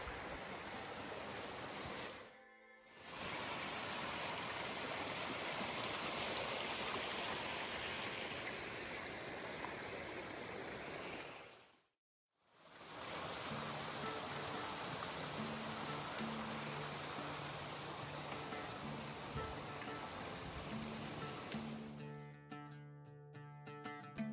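A mountain stream runs past fairy-tale rocks and small waterfalls in a continuous broadband rush of water, broken by two short dropouts, with faint tonal sounds late in the clip and no voices.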